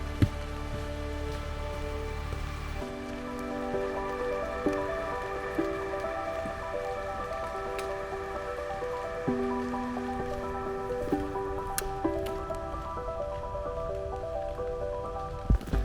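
Rain falls on a hiking trail in the Laurel Highlands, a steady soft patter with scattered close drips and taps, plus low shifting tones in the background.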